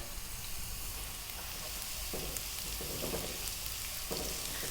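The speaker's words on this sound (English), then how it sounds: "In goes the garlic and the ginger. Just let it do its thing just for a few seconds in there." Garlic and ginger sizzle in hot oil heated above medium, a steady, close crackle of frying that holds evenly throughout, with a few soft stirring bumps partway through.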